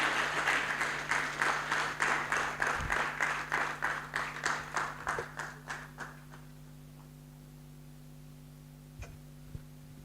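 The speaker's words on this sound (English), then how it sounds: "Let's give Mr. Katerega another round of applause." An audience at a student anti-corruption awards ceremony claps after a speech, a steady applause that thins to scattered claps and fades out by midway, leaving a faint electrical hum.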